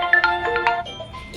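A mobile phone ringtone gives a quick run of bright, chirpy electronic tones, fairly close and lasting about a second, then fades under a low background murmur.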